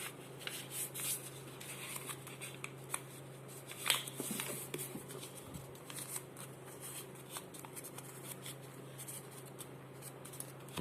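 Sheet of paper being folded by hand after drawing on it, with soft crinkling and rustling spread over the whole stretch, fairly quiet against a steady low hum, no talking.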